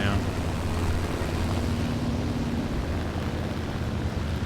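Propeller plane engine in War Thunder, a Russian ground realistic battle, droning as a steady loud rumble with a low hum throughout, under light talk.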